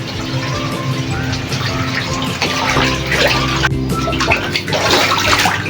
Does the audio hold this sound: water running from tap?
yes